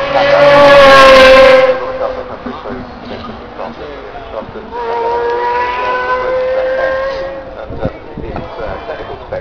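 A Pagani Zonda supercar on the Goodwood Festival of Speed 2010 hillclimb roars past loudly at the start, then a second, softer engine surge follows as the car carries on up the course.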